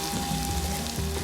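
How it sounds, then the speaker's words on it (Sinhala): Chopped green chillies and fried fenugreek seeds crackle and sizzle in hot oil while a lake fish curry is being prepared, a close, steady frying hiss with no talk. "කපාගත්ත අමු මිරිස් ටිකත් එකතු කරගන්නවා. ඒ අතරම බැදපු උළුහාල් ටිකකුත් මම මේ තෙලට එකතු කරගන්නවා."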